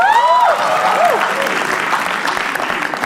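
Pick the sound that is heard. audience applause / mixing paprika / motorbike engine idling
audience applause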